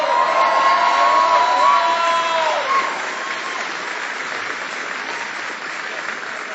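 Troops at Fort Bliss applaud and cheer for military families, a large crowd clapping with whoops and shouts rising at first, then settling into steady applause.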